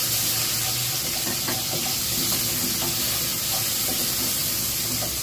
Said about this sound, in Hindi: तो जब तक जीरा ये फटता है तो फिर हम इसमें ऐड करेंगे प्याज।